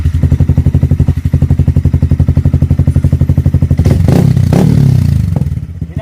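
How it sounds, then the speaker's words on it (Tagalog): A Yamaha Sniper 155 motorcycle with a full-system muffler and no silencer idles in a fast, loud staccato putter close by, then revs hard into a raspy roar and falls back. "first sound check natin, try oval. Try oval para dito sa Yamaha Sniper"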